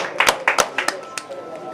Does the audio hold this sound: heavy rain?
no